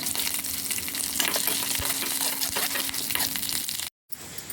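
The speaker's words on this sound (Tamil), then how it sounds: "வெந்தயம் சிறிது சீரகம் கருவேப்பிலை காஞ்சி மிளகாய் இதெல்லாம் சேர்த்து நல்லா கலந்து ஒரு தாளிப்பு கொடுத்துடலாம்" Fenugreek, cumin, curry leaves and dried chillies crackle and sizzle steadily in hot oil for tomato thokku, with stirring scrapes through the frying, then a sudden cut to a quieter pan at the end.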